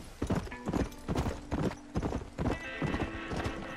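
Horse hooves clip-clop in the Red Dead Redemption video game, a steady rhythmic gallop of loud, close hoofbeats with faint background game sounds.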